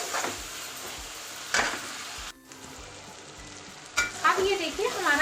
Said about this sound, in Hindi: और अब हम इसे अच्छे से पका लेते हैं जब तक कि हमारे टमाटर ऑयल ना छोड़ दें।